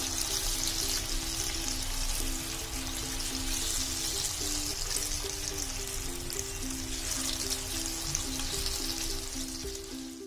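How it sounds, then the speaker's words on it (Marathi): Battered chicken 65 with curry leaves fries in oil over a low flame, a continuous soft crackling sizzle at close range with a steady faint tonal hum beneath and no talking. "बारीक गॅसवर हे म्हणजे मध्यम आच किंवा बारीक आच असताना आपण चिकन तळून घ्यायचंय"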